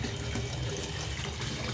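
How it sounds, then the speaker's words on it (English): Cold water running from a hotel room tap, a steady soft splashing stream into a basin, faint and continuous without voices. "Add some more cold water."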